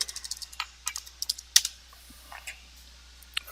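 Computer keyboard keys are typed in a quick, irregular run of light, close clicks and taps, fairly quiet against a faint background hum, with no talking.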